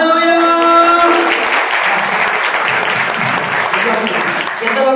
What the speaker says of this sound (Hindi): जोरकी ताली मारिबा हालेलुया